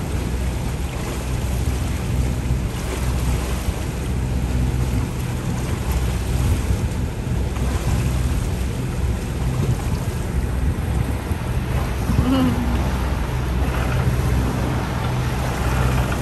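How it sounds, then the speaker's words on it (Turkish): Steady headwind rushes across the microphone on a boat in the Dardanelles Strait, over the wash of light sea waves and a low engine drone, continuous with no voices. "dalga var. Tam kafadan geliyor rüzgar."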